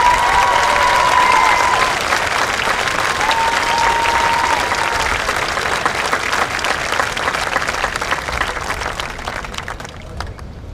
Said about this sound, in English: please join me in a round of applause for Joe